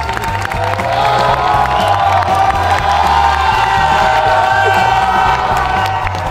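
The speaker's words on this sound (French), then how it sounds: "Est-ce qu'on peut l'applaudir quand même?" Large cinema crowd at the Grand Rex in Paris during an Avengers marathon applauding and cheering loudly and continuously, with whoops and shouts layered over dense clapping and a low rumbling bed throughout.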